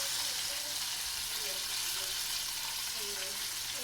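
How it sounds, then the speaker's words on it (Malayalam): Chicken pieces deep-frying in oil for crispy KFC-style chicken give a dense, steady sizzle that fills the whole stretch, close and even, with a faint voice underneath. "നമ്മുടെ ചിക്കൻ അപ്പോൾ എണ്ണയിൽ കിടന്ന് നന്നായിട്ട് മുരിഞ്ഞ് വരുന്നുണ്ട് കേട്ടോ."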